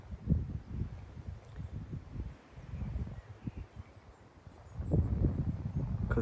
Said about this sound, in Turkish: duyuyorsunuzdur rüzgarın şu an sesini.